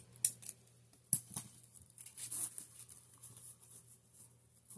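Scissors snip through paper for a junk journal belly band, with two sharp crisp cuts standing out near the start and softer snipping and rustling following, close and alone with a low steady hum underneath.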